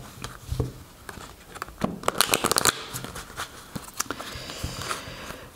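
Oracle cards shuffled by hand for a tarot-style love reading, with a run of soft, rapid papery riffles and taps that cluster into a louder burst midway, close and alone without talk.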